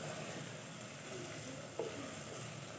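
Fenugreek leaves and mixed vegetables sizzle steadily in a pan, a soft, continuous frying hiss heard close up, with a faint stir or clink partway through.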